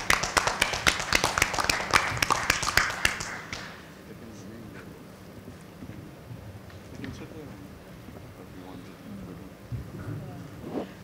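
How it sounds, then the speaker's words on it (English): Conference audience at a trade and marketing committee session applauds briefly for about three seconds, then the clapping stops and only low room noise and faint murmurs remain. "I think you need a round of applause"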